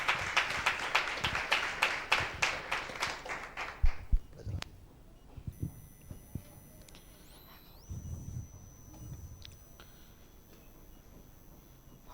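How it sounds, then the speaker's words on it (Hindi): A church congregation applauds loudly with a dense run of clapping that fades out after about four seconds. Scattered taps and quieter room sounds follow, then a soft electronic tone. "एक जोरदार ताली देंगे परमेश्वर के नाम की महिमा के लिए"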